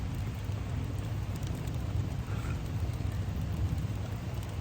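Rain pours onto the roof of a van, a steady rumbling patter with a low, muffled drumming heard from inside, constant and close, with no speech.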